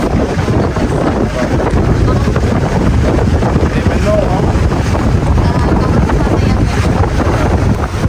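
Heavy wind buffets the microphone in a constant low roar throughout, with a brief spoken phrase at the start.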